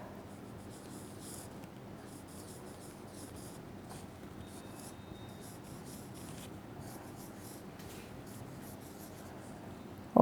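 Chalk or marker scratching steadily across a classroom board, a continuous soft scraping that runs the whole time at moderate level with no talk over it.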